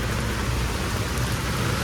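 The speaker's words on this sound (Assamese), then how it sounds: "একজাক পূৰা বৰষুণ দি দিছে" A rain shower pours down steadily in Guwahati, a dense, even hiss that holds at the same level throughout, with no talk.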